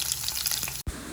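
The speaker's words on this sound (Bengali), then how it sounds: "তেলটা গরম হয়ে গেছে, আমরা এখানে পেঁয়াজ দিলাম" Onions drop into hot oil in a pan as the gravy for a restaurant-style egg curry begins, a loud, dense sizzle that cuts out briefly before crackling on.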